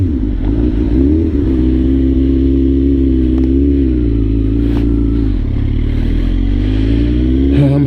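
A 2006 Suzuki GSX-R1000 sportbike ridden from the rider's seat, a loud continuous engine drone with rising and falling revs and a dip as it shifts, wind rumble and occasional clatter throughout.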